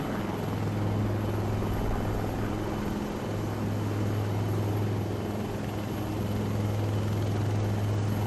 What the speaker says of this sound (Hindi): वास्तविक में यहाँ पर 2 हेलीकॉप्टर है परेड ग्राउंड के दाएं और बाएं।